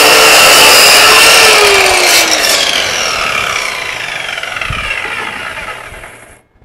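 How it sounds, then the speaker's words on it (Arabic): A saw cuts through a wooden piece for a small camping trailer, a loud continuous rasping and whining that slowly fades as the cut finishes and stops. "انتهينا من قص المرابيع"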